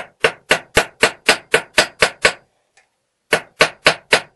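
Hammer blows drive over the metal edges of a front-door handle part, a steady series of about nine sharp, loud strikes, then a pause and four more, with no talk.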